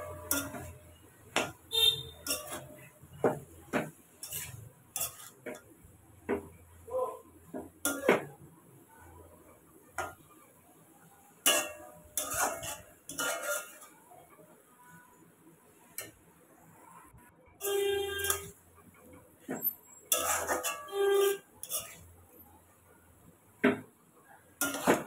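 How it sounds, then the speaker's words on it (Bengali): A curry of pumpkin greens and prawns stir-fried with two tablespoons of poppy seed paste in a pan, heard as sparse clinks and scrapes of a spatula against metal in a quiet kitchen. "দিয়ে দিচ্ছি 2 টেবিল চামচ পোস্ত বাটা, দিয়ে একটু ভালো করে কষিয়ে নেব 5 থেকে 6 মিনিট মতো।"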